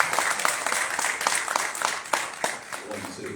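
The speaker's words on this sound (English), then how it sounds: "Can we give him a hand?" Audience applause for Nick Smith, Deputy Public Advocate of New York City, at a summit at Lincoln Hospital in the Bronx, a steady patter of clapping from a moderate crowd with a few louder claps standing out.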